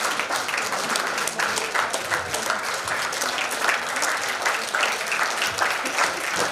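Sustained crowd applause welcoming the chief guest at the closing ceremony of a state school chess championship, dense continuous clapping from many hands at a steady level.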